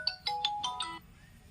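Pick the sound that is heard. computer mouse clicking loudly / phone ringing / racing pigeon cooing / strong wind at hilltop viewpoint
phone ringing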